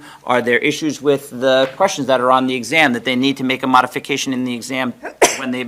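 A brief, sharp sneeze bursts out near the end of a stretch of continuous talk in a school board meeting room, with the speaker's voice dominating throughout.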